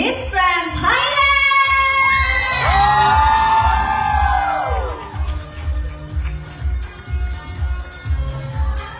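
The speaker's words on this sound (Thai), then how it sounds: "ขอเสียงปรบมือให้กับอิงฟ้าค่ะ อิงฟ้าวราหะมิสแกรนด์ไทยแลนด์" An audience at a Thai product launch event for a new presenter greets a guest with loud cheering, whooping and shouting, then settles into steady rhythmic clapping that continues to the end.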